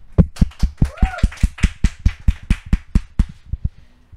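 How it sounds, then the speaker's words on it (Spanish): A single steady clap or tap repeats about every fifth of a second, crisp and close, with a brief voice-like sweep partway through; it could be one person clapping at a Catholic talk show event rather than a full audience. "vamos a recibir con un fuerte aplauso a Rolando Tobit"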